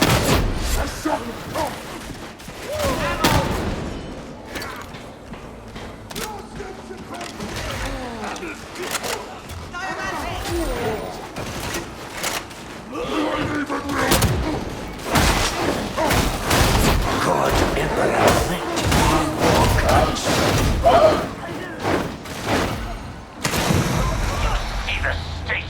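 Shotgun gunfire in Warhammer 40K Darktide, repeated heavy blasts and thuds scattered through a busy game mix with characters' voices talking over the fighting.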